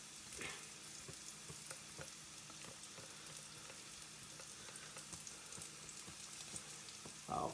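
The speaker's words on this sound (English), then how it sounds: "putting the egg batter into the frying pan. This is on low heat." Egg batter for a mushroom omelette sizzling steadily in a frying pan over low heat, a soft continuous crackle with faint scattered pops and a brief clatter near the end.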